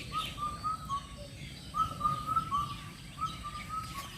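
An oriental magpie-robin calls near its nest in a woodpecker-made hole in a tree, giving short, clear whistled phrases in three bursts over a few seconds, moderately faint against low outdoor background noise.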